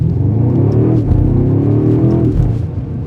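A 2025 BMW M5 Touring plug-in hybrid with 717 horsepower launching hard from a standstill, heard from inside as a loud, deep engine roar that climbs in pitch through gear changes over a few seconds.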